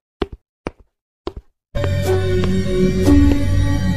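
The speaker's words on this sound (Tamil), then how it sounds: "அத்தை யார் அத்தை கதவு தட்டுறது?" Three quick pairs of knocks strike a door in a horror story setting, loud and close with silent gaps between them, before a steady background of ambience and music swells up.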